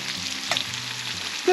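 Hunted rice-field sparrows frying in hot oil, a close, steady sizzle and crackle with a brief clatter midway, no talking.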